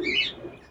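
A pair of Moyna Kutki pigeons in a pigeon and bird shop gives brief, close chirping calls, short and fairly faint, with no talking over them.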